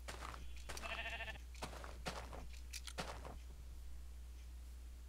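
A sheep bleats in Minecraft, a short wavering call near the start, amid crunchy in-game footsteps striking in an irregular rhythm over a low steady hum.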